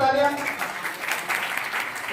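Applause from an audience at a women's award ceremony, a dense patter of clapping that carries on evenly for a couple of seconds.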